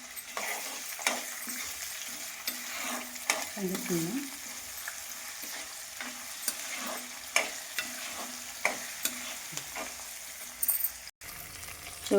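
Tempering seeds, cumin and peanuts fry in hot oil for tamarind pulihora, making a continuous crackling sizzle with repeated clinks and scrapes of a ladle stirring in the pan, close and steady over about twelve seconds.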